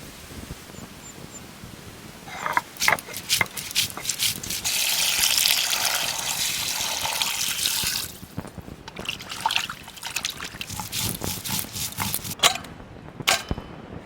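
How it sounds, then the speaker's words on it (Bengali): River rita fish weighing 1.5 kg being washed with salt and water in a village kitchen, with gushing and trickling water, splashing and handling noises that swell into a steady pour, then scattered drips and clatter. "লবণ দিয়ে ভালো করে মাছটা ধুয়ে নেবো"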